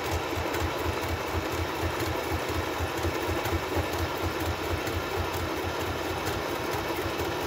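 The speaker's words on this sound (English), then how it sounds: "And you just stick it in, put the foot down, and then we'll sew." Sewing machine stitching a zigzag stitch while decorating junk journal pages, a loud, fast, steady mechanical whirring and rhythmic needle chatter running continuously and close up.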